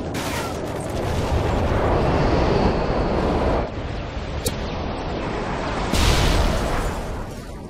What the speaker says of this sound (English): Affirmative, HQ bombs away.